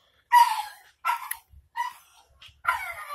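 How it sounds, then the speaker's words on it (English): A pit bull puppy barks in four or five sharp, high yips spaced about half a second apart, close and loud in a quiet room. "A pit bull."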